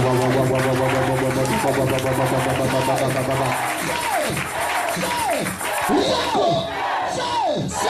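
A church congregation acclaims God with loud massed cheering and shouting. Sustained voices swell and break into repeated excited yells filling the room.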